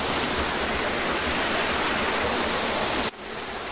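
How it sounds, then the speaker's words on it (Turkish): Cennet waterfall in Turkey pouring down into a chain of stepped pools, a loud continuous rushing roar heard up close, which drops abruptly in level near the end. "Cennet şelaleleri böyle arkadaşlar."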